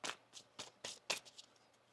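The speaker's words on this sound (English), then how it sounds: "One more shuffle here." Tarot cards are riffled and shuffled by hand in a quiet room, several crisp bursts of rapid flicking in an uneven rhythm, close and fairly soft.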